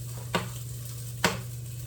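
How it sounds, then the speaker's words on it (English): Eggs cooking in a small saucepan on a breakfast stove, with a steady low hum and faint sizzle throughout, broken by two sharp scraping clinks of a utensil against the pan, evenly spaced and close. "Cooking my eggs in this little saucepan."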